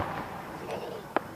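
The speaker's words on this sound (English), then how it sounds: "The fireworks." Fireworks at a county display pop and crackle at a distance, with a few soft bursts and one sharper bang near the end over faint outdoor ambience.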